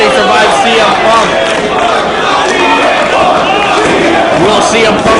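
A dense wrestling arena crowd roars and shouts continuously in a professional wrestling match, loud and full with chanting voices overlapping throughout.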